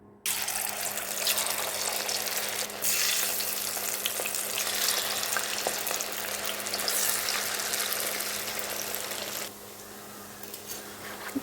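Cauliflower pieces drop into hot oil and fry with a loud, dense, steady sizzle that fills the whole stretch before easing slightly toward the end; no voices.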